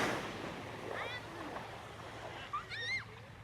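Sea surf washes continuously at a beach, with wind gusting over it and people talking briefly nearby.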